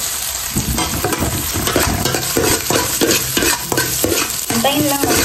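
Garlic frying in a pan gives a loud, continuous sizzle, while a utensil stirs and scrapes in repeated strokes.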